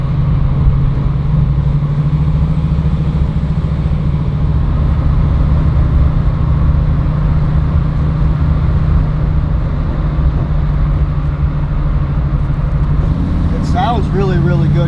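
A 1970 Fastback car's engine on a test drive, a loud steady low drone with road and cabin rumble throughout, and a voice speaking near the end.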